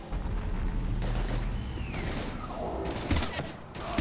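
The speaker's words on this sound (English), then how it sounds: "We're taking heavy fire." Heavy gunfire and explosions during a Reaper invasion battle in Mass Effect 3, with dense continuous bursts, sweeping mechanical whines and a sharp blast near the end.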